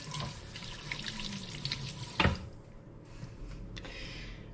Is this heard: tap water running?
yes